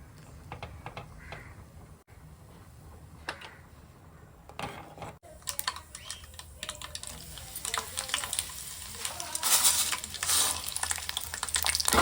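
Spices tempering in hot oil for tamarind rice and lemon rice, made at home for Vinayagar Chaturthi: a steady crackle and sizzle with scattered clicks and utensil taps, growing louder and busier toward the end, with no talk.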